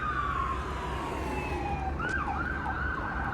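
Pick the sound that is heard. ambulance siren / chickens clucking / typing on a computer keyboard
ambulance siren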